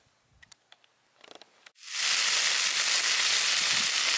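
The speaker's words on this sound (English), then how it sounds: "So I'm going to press on now and start frying some bacon." After a few faint clicks and taps, bacon starts frying on a camp stove during a wild camp on Oke Tor and sets up a loud, steady sizzling hiss that carries on unbroken.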